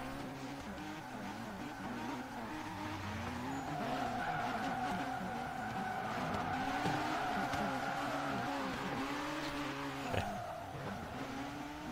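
A car drifting in the racing game Forza Horizon 3 at a Formula Drift event: a sustained high engine whine with continuous squealing, skidding tires, steady and loud throughout, with brief revving shifts.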